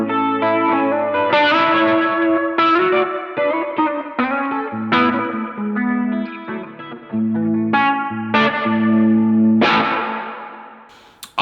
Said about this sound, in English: And now with the delay.